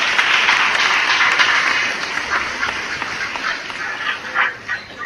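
Church congregation applauding during a Spanish-language sermon, a dense, sustained wash of clapping that fills the whole stretch, steady at first and then thinning slightly with a few louder bursts toward the end.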